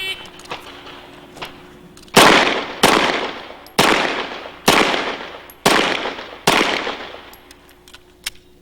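Pistol shots ring out during an IDPA shooting stage, six sharp loud reports at a steady, roughly one-second rhythm, each followed by a brief echoing decay, with faint quieter pops before them.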